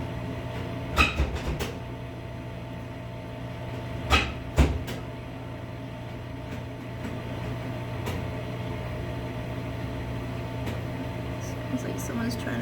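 A door being rattled and pushed as someone tries to open it while it is jammed, a few sharp knocks and thumps over a steady low hum in a ceramics studio.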